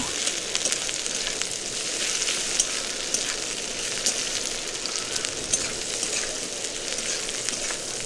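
Onions sizzle and fry steadily in a pan while being stirred, a dense continuous crackle with small scraping ticks, close and fairly loud with no talking.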